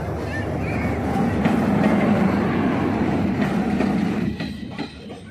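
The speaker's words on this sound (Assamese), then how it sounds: "ট্ৰেইন আহি গ'ল" Train arriving at platform 1 of a station in overcast weather, a loud rumble of wheels and rolling carriages with clacks and faint squeals, easing off near the end.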